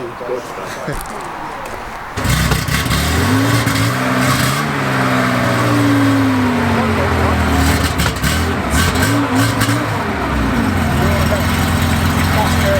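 A 2021 BMW G80 M3 Competition engine runs loudly after a quiet start, its pitch rising and falling through several revs, with a voice speaking at times over it.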